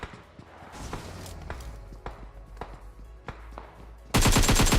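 Gunfire rattles in a PUBG match near a military base, scattered sharp shots ringing out at varying distances before a loud, close burst of rapid automatic fire at the end.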